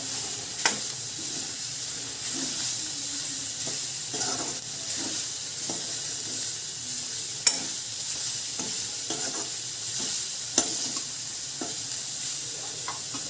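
Soya chunks and vegetables fry in a pan, with a loud, steady hiss and sizzle throughout and scattered scraping knocks from stirring.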